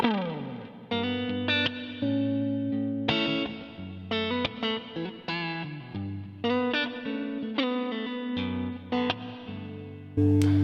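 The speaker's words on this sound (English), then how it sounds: "So let's hear the neck pickup completely clean." Electric guitar plays alone on the neck pickup with a clean tone, picking single notes and chords in a loose melody with ringing sustain.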